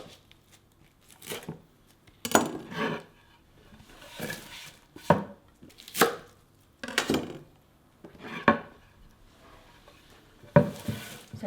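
A knife chops one pound of chives into bite-sized pieces on a board, giving about a dozen irregular close taps and scrapes separated by pauses, with no talking.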